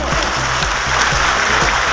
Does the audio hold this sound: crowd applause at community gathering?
yes